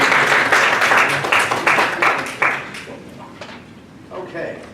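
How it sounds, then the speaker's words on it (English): Applause at a township Board of Supervisors meeting, a short burst of clapping from a small group in a meeting room that fades after about two and a half seconds before a voice begins speaking. "Clap for that."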